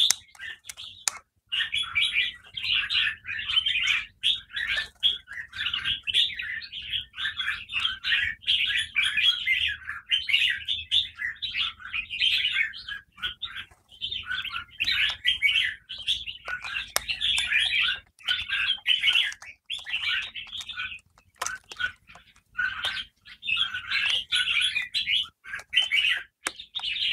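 Red-whiskered bulbuls chirp steadily while bathing: bright, repeated bursts of tweets in clusters with short pauses between them, with a faint murmur of talk beneath.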